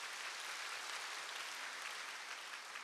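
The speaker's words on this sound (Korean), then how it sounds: "동산의 가족이 되신 분들을 마음을 담아 박수로 환영하도록" A church congregation claps to welcome new members during a Sunday morning service, a soft, even wash of many hands applauding that carries on steadily with no voices over it.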